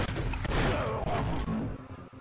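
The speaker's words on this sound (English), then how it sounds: "I got my shotgun back" A shotgun fires in the Nintendo 64 shooter Turok: Rage Wars, a few heavy blasts close up, moderately loud, then trailing off into quieter game noise.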